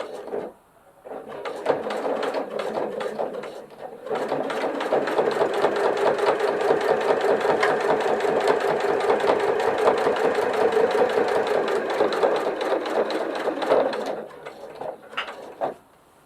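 A sewing machine stitches along a fabric glasses case in one long, steady run of rapid clatter, close by, with brief quiet moments before and after.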